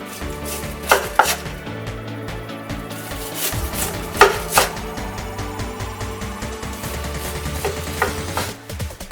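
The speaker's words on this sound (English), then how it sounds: "Cut into bite-sized pieces." Knife cutting thick fried tonkatsu pork cutlet into bite-sized pieces on a board, repeated crunchy chops and scrapes close up in an uneven rhythm, with some light clatter of kitchenware and no talking.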